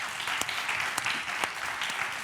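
An audience applauds during a live interview show. The steady, fairly close clapping carries a few sharper individual claps, runs the whole stretch and has no speech over it.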